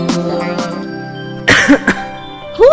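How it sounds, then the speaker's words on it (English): A man coughs in a quick cluster of two or three sharp bursts midway through, after a stretch of voiced, tonal sound, with another short vocal sound near the end. "Who's this man coughing around here?"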